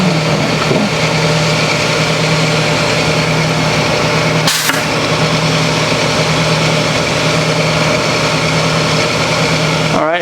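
A valve grinding machine spins a GM 5.3 engine valve held in its chuck, giving a loud, continuous motor drone and hum with one brief sharp break midway.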